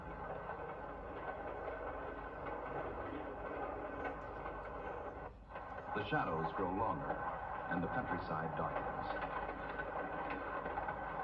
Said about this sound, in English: While the train speeds into the dusk, the porter prepares beds for his passengers.